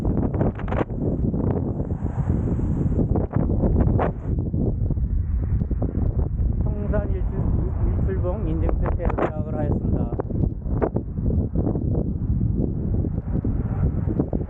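Strong wind buffets the microphone of a cyclist riding the Jeju coastal bike path near Seongsan Ilchulbong, a steady low roaring rumble throughout, with someone speaking over it.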